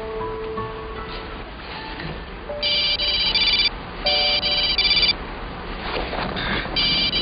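A telephone rings in short repeated bursts, three clear electronic trills separated by pauses, loud and close over a quiet room background.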